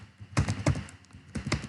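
Keys on a computer keyboard clack in a few uneven clusters of taps, close and moderately loud, with short pauses between bursts.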